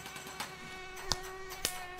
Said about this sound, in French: Pécaïr, saleté de moustique!